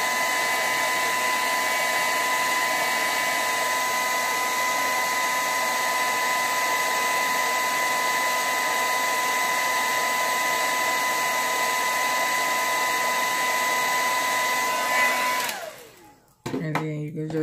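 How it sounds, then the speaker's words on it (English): A hair dryer on its cool setting blows in a loud, steady whir for about fifteen seconds, then cuts off and is followed by brief handling noise. "And you can blow dry a little bit"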